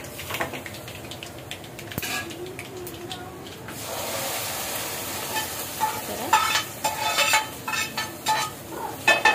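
Spices for a tempering fry in oil for a drumstick leaf and sesame flour curry, a continuous sizzle broken by clinking and scraping stirs that grow busier toward the end.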